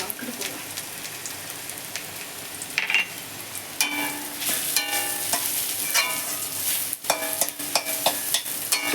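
Turmeric, cumin, coriander and Kashmiri chilli powder fry in a pan with a steady close sizzle, broken by sharp scraping stirs and spatters, and faint voices can be heard in the background.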